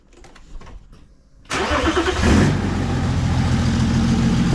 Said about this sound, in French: je vais démarrer la voiture déjà pour voir ce que ça fait